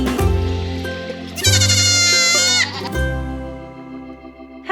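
Dairy goats on a homestead bleating loudly up close, several long wavering calls overlapping one after another, one especially high and strained in the middle, with no other sounds around them.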